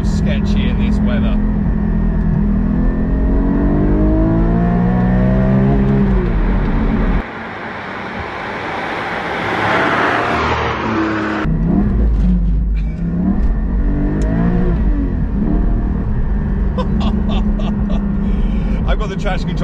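A Porsche 718 Cayman GT4 engine revs and climbs through gears while driving on wet roads, loud and close inside the cabin, with a sharp drop and recovery midway and someone talking over it.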